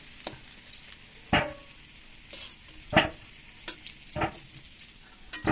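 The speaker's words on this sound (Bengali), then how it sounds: "আমি পাঁচ মিনিট আলুটাকে ভালো করে একটু লাল করে ভেজে নেবো" Potatoes frying in a pan until reddish brown, for a meat curry: a few sharp scraping stirs land at irregular intervals over a faint, low sizzle, fairly close and with no talking.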